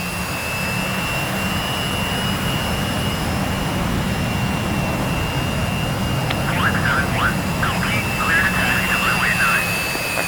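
Twin jet engines of a Flanker fighter in a combat flight simulator game, a loud steady roar with a high whine, while a person talks over it.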